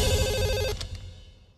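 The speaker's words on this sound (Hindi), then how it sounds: "सुनीता फोन उठा लो।" A telephone rings with a bright electronic trill that stops partway through, then fades out quickly; no talking.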